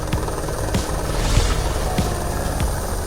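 A helicopter carrying survey equipment for an airborne Lidar survey drones steadily overhead, its rotor thumping in a regular beat under a constant engine whine, loud and continuous with no talk.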